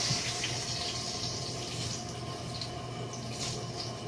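Liquid drains off a cooked flank steak, a steady, close, hissing trickle of juices running off the pan with no talk over it.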